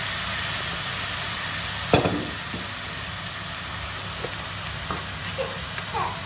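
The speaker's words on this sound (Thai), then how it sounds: "นี่ค่ะข้าวกับไข่ก็ผัดไป" Rice and egg stir-fried together in a pan for shrimp fried rice, giving a steady close sizzle with a few clinks and scrapes of the spatula around two seconds in.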